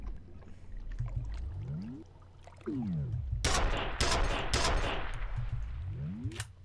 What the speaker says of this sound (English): It's a glorified nail gun.